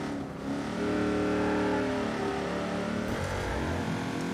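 A loud car engine drones steadily in Watch Dogs 2, holding a dense, continuous roar that swells slightly as the car accelerates, close and alone without talk.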